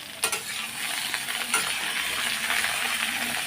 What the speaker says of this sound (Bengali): সবজিগুলো তো সবজিগুলো একটু ভাজা ভাজা করে দেবো